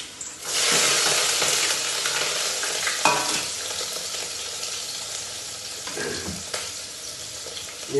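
Garlic and green chilli hit hot oil with a loud, steady sizzle that spreads across the whole pan, close and continuous, broken by a few scraping stirs and clinks and fading a little toward the end.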